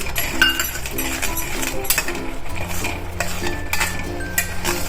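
Milk simmering in a pan for Gujarati carrot barfi is stirred slowly, with spoon clinks and scrapes against the metal over a steady low hum, close and moderately loud with no talking.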